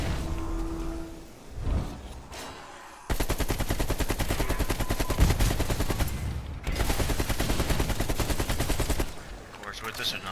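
Sustained automatic fire from a modified AK-47 RPK light machine gun in Cold War Zombies, two long rapid bursts of dense, even shots, loud and close, separated by a brief pause.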